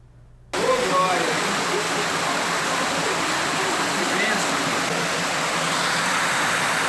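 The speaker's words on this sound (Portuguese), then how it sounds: "Parece uma cachoeira, mas é uma escadaria no Forte São João, em Vitória. Quando chove, esse é o transtorno que os moradores enfrentam." Rainwater rushing down a stone staircase in Forte São João, Vitória, like a waterfall, a loud continuous broadband roar that starts abruptly after a brief quiet moment and holds steady.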